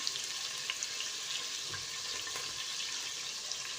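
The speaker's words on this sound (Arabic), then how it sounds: "حطي بقى فلفل اسمر يا عم يتشوح مع الثوم" Garlic and black pepper sautéing in a pan over pasta, a faint, steady sizzle with occasional small crackles, no talk.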